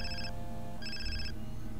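A mobile phone rings in the video game Far Cry 3, giving two bursts of an electronic trill plus the start of a third over a low, steady game background.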